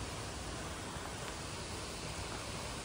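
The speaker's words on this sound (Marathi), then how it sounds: "आता आम्ही वेरूळच्या या धबधब्याजवळ आलेलो आहोत" Waterfall at the Ellora (Verul) caves during rain, a steady, dense roar of falling water filling the scene evenly and loudly without pause, no voices audible.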